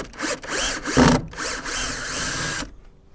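A power drill drives screws into a large wooden outdoor playset in several close, loud bursts of whirring with brief pauses, ending abruptly in near silence, and no talking.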